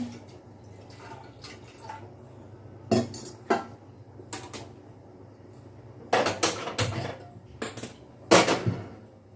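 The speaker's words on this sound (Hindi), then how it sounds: "वो इधर चाय बनने के लिए रख दे रहे हैं।" Metal pots and utensils clatter in a home kitchen as a pot is set out to make tea: scattered clinks and knocks, several sharp and close, separated by quiet pauses.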